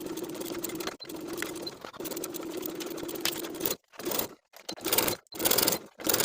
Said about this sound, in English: Now we can sew everything together as pinned with a 1/2 inch seam allowance